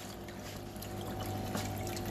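Two small water streams trickle and pour down a moss wall gallery display, a steady continuous splashing wash with no voices.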